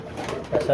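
Pigeons feeding on scattered grain give a soft, low coo close by, partly under someone speaking Hindi.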